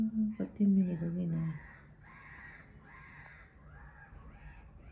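Several crows caw in short harsh bursts, a couple of nearby calls followed by softer repeated caws further off, with a voice briefly overlapping at the start.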